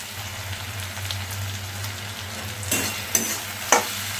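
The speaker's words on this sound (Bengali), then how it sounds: "এটা দিয়ে আমরা 30 সেকেন্ড মতো একটু ফ্রাই করে নেব" Chopped tomato and green chilli frying in a pan, a steady close sizzle over a low hum, broken by a few sharp spatula scrapes and clinks toward the end.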